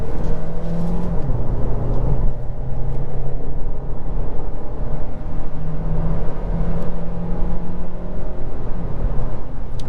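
A 2023 Kia Niro SX Touring hybrid accelerates hard in manual mode using its paddle shifters, its engine droning loud and steady with a rising pitch, heard from inside the cabin without any talking.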